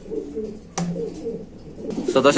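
A pigeon coos softly at a wholesale pigeon market, with short low calls, a sudden rustle partway through and louder fluttering and handling noise at the end.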